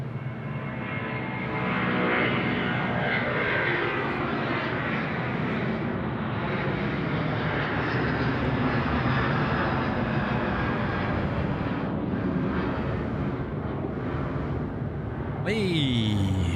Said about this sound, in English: Malaysian 140 is off to Kuala Lumpur.